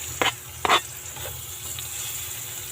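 Onion sizzling and sautéing in margarine in a hot pan, a steady close frying hiss with two quick stirring scrapes near the start.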